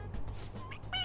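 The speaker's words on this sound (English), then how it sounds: "It's, a toy. It meows when you press on its head." Toy cat meowing when pressed on its head in the Persona 5 video game, a short high-pitched meow at the end after a faint squeak, close and clear over a low background hum.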